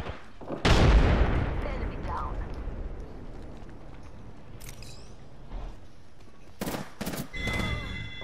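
A frag grenade and an arc star go off in Apex Legends: one loud, close blast rolls away into a long rumbling decay, followed later by a few sharp crackling bursts.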